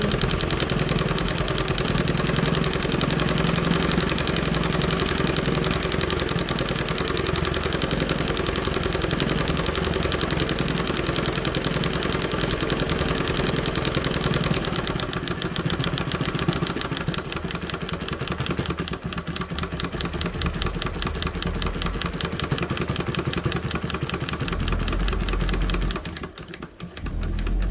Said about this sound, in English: in our hall bathroom jackhammering tile up